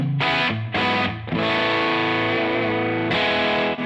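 Electric guitar played through a pedalboard overdrive with the low-end boost turned up, giving loud, thick distorted chords that ring out with short gaps between strums, with no other sounds.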